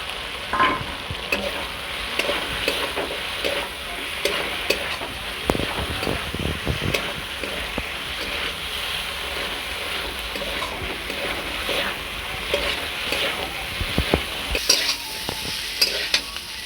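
Pointed gourd and potato stir-fry in a pan, with continuous close sizzling and frying joined by repeated scraping and stirring clicks throughout, steady and moderately loud.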